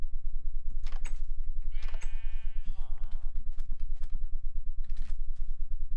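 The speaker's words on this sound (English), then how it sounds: "There's a sheep there." A sheep bleats twice in the Diamond Sword RPG video game, loud wavering cries over a steady rhythmic ticking game background, with a short extra bleat near the end.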